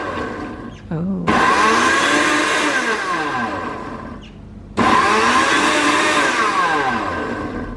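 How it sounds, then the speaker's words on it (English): White SMEG blender running in two loud bursts, each starting abruptly with a high whirring roar that slowly winds down in pitch, separated by a brief pause. "I think it's a really good blender."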